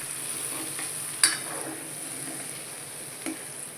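Manchurian is stirred in a frying pan, giving a quiet, steady sizzle with two brief knocks of a utensil against the metal, heard close by with no talking.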